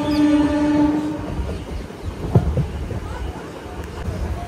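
MEMU passenger train 07875 on the Repalle–Tenali line pulling into the small Pallikona railway station, with a horn blast at the start, then a steady rumble of rolling wagons and a brief clank.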